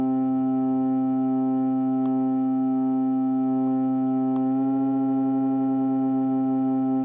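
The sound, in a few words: detuned synthesizer voices creating phasing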